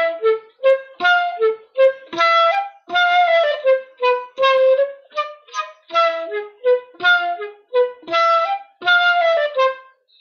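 Piazzolla-style tango rhythm in a 3-3-2 eighth-note grouping, played as accented melodic figures in repeated groups of notes, moderately loud and alone with no talk.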